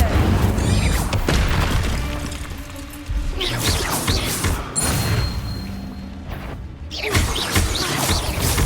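A fire spell cast in a Harry Potter video game, heard as loud magical whooshes and crashing bursts one after another. Each blast comes up close and ends in crackling, layered impact effects.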